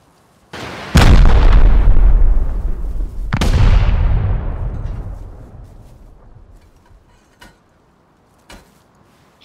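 Two big satchel charge blasts in the game Rust, the first at about one second and the second a few seconds later. Each is a loud, booming detonation that rolls into a long, fading rumble, and a couple of faint thuds follow.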